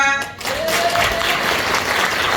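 Sustained applause from a crowd at the close of a lecture, loud and steady throughout, with a brief dip near the start before the clapping settles into a dense, even roar.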